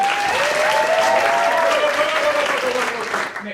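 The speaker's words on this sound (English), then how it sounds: "please have a massive round of applause for our improv performers!" A live audience gives loud, sustained applause for improv performers, dense clapping that holds steady before tapering off at the end, with a faint whoop or voice tone over it.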